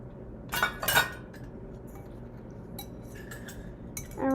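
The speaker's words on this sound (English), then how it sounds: "Now you mix until creamy and smooth." A spoon clinks against a bowl while cookie batter is mixed until creamy, with a few sharp metallic taps near the start and lighter clinks and scraping later over a quiet background.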